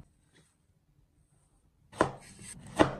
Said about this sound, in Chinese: 我们把提前洗干净的韭菜来给它切一切，切得越碎越好